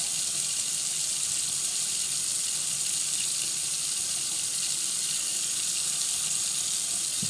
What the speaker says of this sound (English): Now, just listen to the, the tap